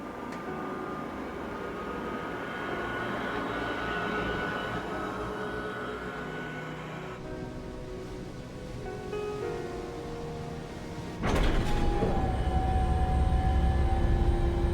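In the video game Ace Combat 7, an A-10 jet sits preparing for takeoff, its engines giving a steady broad roar and whine that swells into a louder, deeper rumble near the end, with no voices.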